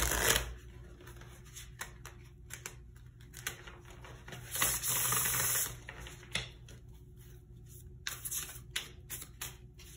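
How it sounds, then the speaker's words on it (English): A deck of tarot cards is riffled and shuffled in quick crisp bursts, with a longer continuous riffle midway, close and alone. "I'm gonna do one quick shuffle here."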